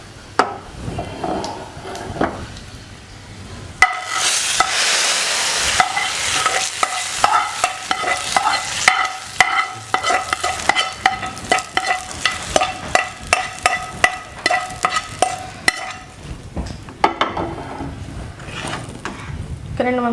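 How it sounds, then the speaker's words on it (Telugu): Tempering sizzles in a hot pan for Chennai-style sambar, a loud, dense crackle that flares up partway through with repeated sharp clinks and stirring knocks, and a voice talks faintly underneath. "మనం తాలింపు కూడా పెట్టేసుకున్నాం."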